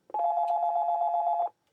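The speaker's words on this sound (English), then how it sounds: "It's a solid ring as opposed to like the double ring when you're calling in between the extensions" A steady, unbroken ring tone from an outside CO line on a Panasonic KX-TA824 analog PBX telephone system, sounding as one continuous burst of about a second and a half, clear and alone.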